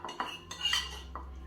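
Noodle water being stirred into sauce in a bowl, a few quick metallic clinks and scrapes of a utensil against the bowl, close and alone.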